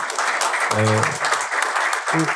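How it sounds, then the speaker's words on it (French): Audience applause at a talk on agriculture and energy autonomy, a steady wash of clapping running throughout, with brief tonal bursts of voice or sound cutting in near the middle and end. "Vous pouvez l'applaudir parce qu'on va enchaîner."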